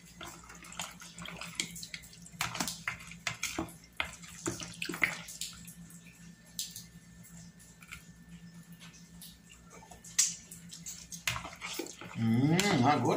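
Water poured into a jar of onions being pickled with vinegar and lemon in a home kitchen, a trickling, splashing stream with small drips and clinks, ending in a louder gush near the end.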